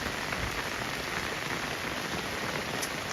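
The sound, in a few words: rain falling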